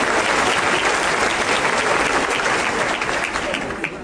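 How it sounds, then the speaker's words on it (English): An audience at a teacher of the year ceremony applauds honored educators, a dense, steady wash of clapping that stays loud throughout and eases slightly near the end. "you all should give yourselves a round of applause"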